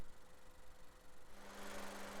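2019 Honda CR-V with a 1.5-litre turbocharged L15BE inline-4 petrol engine idling, a quiet, even hum with a faint steady drone, no voices.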